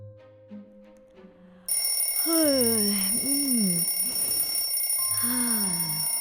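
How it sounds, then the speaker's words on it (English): An alarm clock rings at the start of a morning, a repeating electronic tone that starts faint, then a loud steady ringing layer comes in with a voice-like warbling tone over it. "I think I'll just hit the snooze one more time."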